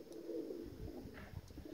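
Pigeons cooing outdoors, a short low throaty coo repeated close by over faint background noise.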